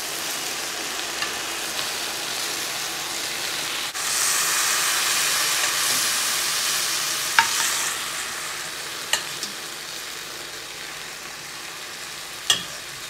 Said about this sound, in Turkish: Güzel ılıyan şerbetimizi fırından çıkardığımız tatlıların üzerine dökeceğiz.